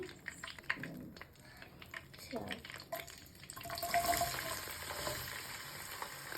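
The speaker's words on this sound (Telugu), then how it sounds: "ఇదే ఆయిల్లో మనం ఆనియన్స్ వేసుకుందాం." Onions go into hot oil already used for frying eggs for an egg drumstick curry, a low sizzle under intermittent clinks and stirring, growing into a louder steady fry toward the end.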